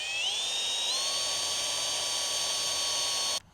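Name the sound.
drill driving pan head screws into aluminum strap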